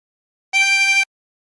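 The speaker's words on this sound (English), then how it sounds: "And blow into 9" One held blow note on hole 9 of a 16-hole tremolo harmonica, about half a second long, with a shimmering, slightly wobbling reed tone, played up close with no other sound.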